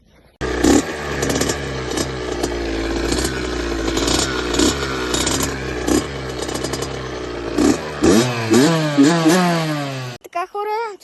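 Small motorcycle engines idle and rev in loud, wavering bursts, with pitch swinging up and down as the throttle is blipped, ending in a sharp final rev before cutting off.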